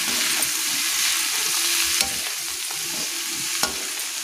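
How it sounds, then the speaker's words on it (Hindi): Mixed vegetables with masala and salt fry in a pan under steady stirring, a constant broadband sizzle with a few sharper scrapes of the spoon; no talking. "अच्छी तरह से सभी चीज़ों को मिला लेंगे"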